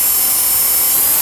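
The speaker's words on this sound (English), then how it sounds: "We're going to drill them with a quarter inch after that" An electric drill whines loudly and steadily as it bores a quarter-inch hole through the sheet metal of a 2009 Mini Cooper Clubman. It is a close, constant high-pitched grind with no talk over it.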